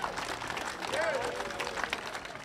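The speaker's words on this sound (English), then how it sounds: "And so let's give an applause for Mayor James and council leadership for making this happen." Audience applause at a Kansas City, Missouri civic gathering honoring the mayor and council leadership: a steady wash of many hands clapping, fairly loud and sustained throughout.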